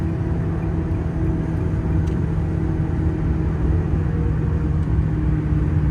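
A 2000 Ferrari 360 Modena F1 engine drones steadily above 6,000 rpm while driving, loud with deep rumbling tones, holding a constant pitch throughout with no voices.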